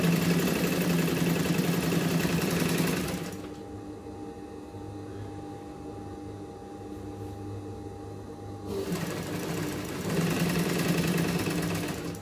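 Sewing machine stitching along a seam on a schoolbag, a steady mid-pitched mechanical run in the middle of the clip, with louder machine running at the start and end, no talking.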